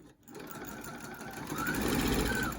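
A sewing machine stitches quilt squares into four-patch blocks, running a continuous fast whirring hum with a soft mechanical chatter, fairly quiet and alone.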